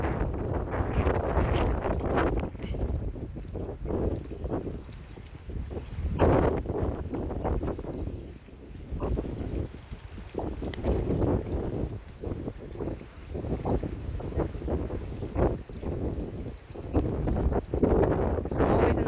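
Wind gusts buffet the microphone on a farm where cows stand nearby, a steady rushing roar with low rumbling bursts that rise and fall throughout, loud and close with no other clear sounds.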